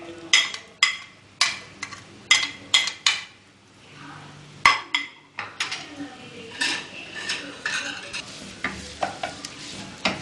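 A metal spoon scrapes and clanks repeatedly against a pan as medium-sized onion fries in hot oil, sharp rhythmic stirring strikes over a soft, steady sizzle, close and clear.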